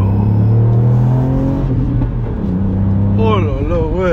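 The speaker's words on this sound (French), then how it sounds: "Oh là là, le son t'entends, c'est vraiment le moteur." A Ford Fiesta ST Mk8 engine revs hard from inside the car, its loud, rising and falling whine climbing through the gears and swooping up and down near the end.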